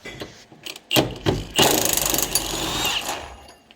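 An impact wrench with a six-point impact socket rattles in bursts while parts come off a 2018 Chevy Silverado in a shop, with a few short clanks first and then a longer hammering run, close and fairly loud.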